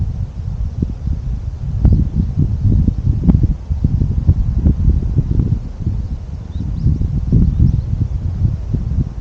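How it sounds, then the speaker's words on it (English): Wind blowing straight into the microphones of an Insta360 One X2 camera, a loud, steady low rumble with gusty buffeting that runs throughout, with nothing heard above it. "Here is the sample with just ambient noise and the wind."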